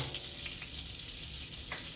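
Butter sizzles and crackles softly in a pan as it melts down for a roux, a quiet, continuous frying hiss with no voices.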